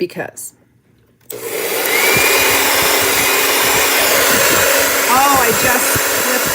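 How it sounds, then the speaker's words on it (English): A powerful hair dryer blows steadily to dry a crackle-finish craft project, a loud continuous whoosh starting after a brief quiet moment and running strongly to the end, with a few short spoken words near the start. "So I'm actually going to use my more powerful dryer"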